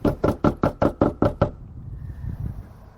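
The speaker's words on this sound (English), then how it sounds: "We're just going to knock on the door and see if he's around." Someone knocks on a house door, eight firm, close knocks in a fast, even rhythm over about a second and a half, followed by quiet outdoor room tone.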